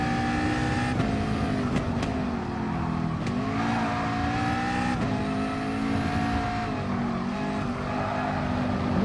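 An Audi race car in GT Sport roars at high revs with steady, loud engine tone and shifting pitch, a few sharp pops from the exhaust breaking through, other cars audible around it.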